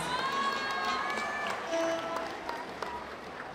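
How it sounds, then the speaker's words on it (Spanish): A crowd at a traditional huapango dance contest in Yahualica, Hidalgo, applauds the winning couples: sustained, fairly distant clapping mixed with cheers and shouts, with a few faint tonal sounds and brief voices in the background. "Que se escuchen fuerte los aplausos para nuestras parejas ganadoras"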